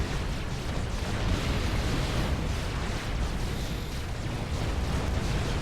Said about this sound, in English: so you don't get hit by the artillery